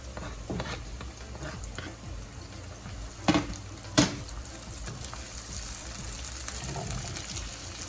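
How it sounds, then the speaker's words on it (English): Onions, garlic, scallion and pepper sautéing in a pot, a steady soft sizzle with a few sharp clinks of a spoon against the pot partway through. "my onions and garlic has been sauteing in this pot here"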